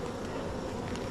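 Honeybees from a backyard hive fill the moment with a steady, close, continuous buzzing drone, unbroken and without any talk over it.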